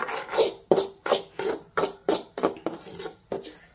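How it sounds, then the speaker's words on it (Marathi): Semolina roasting in a pan with a spoon or spatula scraping and stirring in a steady rhythm, about nine close, distinct strokes, with no talking. "रवा मस्त भाजत आलाय, आपल्याला ब्राऊन कलर होईपर्यंत छान भाजून घ्यायचा."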